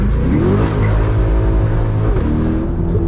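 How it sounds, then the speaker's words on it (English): A sports car engine revs up loudly and then roars as the car launches away, a strong continuous growl close by. "It allows the engine to rev up a little bit and then the car just takes off."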